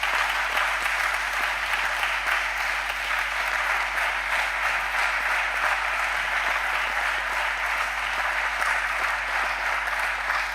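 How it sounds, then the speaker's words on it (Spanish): A crowd at a talks event gives speakers a long, sustained round of applause, with dense, even clapping that stays strong from start to finish. "un aplauso por favor para ellos"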